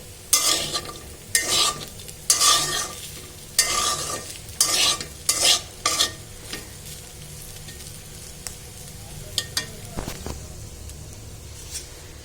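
Bitter gourd and potato bhaji frying in a pan is stirred in quick bursts, each a clattering scrape over a faint sizzle. The strokes come in rapid clusters early on, then thin out to a few isolated scrapes.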